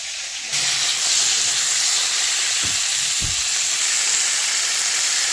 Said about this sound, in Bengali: ফুলকপিগুলো ভেজে নিচ্ছি এখন।